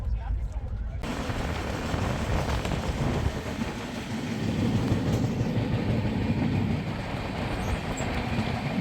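The Howrah Rajdhani Express rolls along the rails with a loud, steady rumble and wheel clatter, heard from inside the moving train, swelling slightly midway as another train passes on the crossing.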